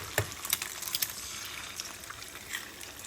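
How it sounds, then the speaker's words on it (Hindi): An egg fries in a pan with a soft, steady sizzle, faint and close, broken by a few light clicks and scrapes near the start. "पहले एग फ्राई कर लूँ।"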